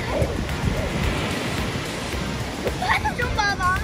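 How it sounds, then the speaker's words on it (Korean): Ocean surf washes steadily onto a long beach at Santa Monica in a broad roar, close by, while a voice chirps briefly near the end. "파도 소리 하나만으로도 굉장히 힐링되는 느낌을 받을 수밖에 없네요."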